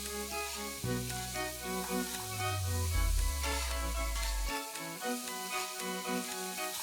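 Cumin seeds, bay leaves, green cardamoms, cloves and chopped onions frying in melted butter for mutton keema, a soft continuous sizzle under music, with a brief stirring clatter partway through.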